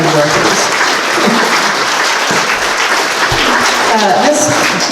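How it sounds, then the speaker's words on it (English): Loud, continuous applause from a crowd at a Veterans Day ceremony, dense clapping filling the whole stretch with a few voices faintly mixed in. "I'd like for you to give them a round of applause"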